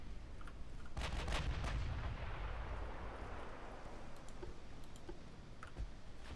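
Naval main guns firing in the warship game Ultimate Admiral Dreadnoughts: a sharp, heavy boom around one second in with a rumbling tail, followed by scattered faint distant shots and clicks.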